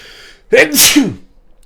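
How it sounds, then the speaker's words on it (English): One loud, close sneeze with a sharp intake of breath and then the explosive burst, set in near silence. "And I have to sneeze."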